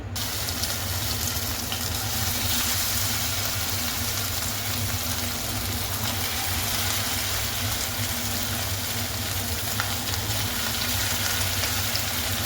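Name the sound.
chicken frying in hot oil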